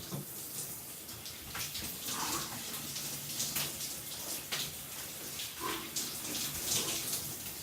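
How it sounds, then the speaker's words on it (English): Steady rush of cold shower water pouring down, broadband and continuous, with a few brief splashy bursts as something moves under the stream. "Shower fully onto cold."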